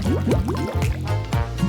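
Special sauce drizzled onto a meal, heard as a close, loud run of wet, gurgling squirts with rising bubbly slides, in quick uneven bursts like a cartoon liquid effect.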